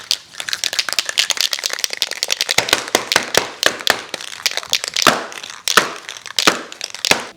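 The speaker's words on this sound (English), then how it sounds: "Remember to shake your cans real nice." Spray paint cans shaken hard, the mixing ball rattling in a fast, continuous run of sharp clacks with brief pauses, loud and close with no voices.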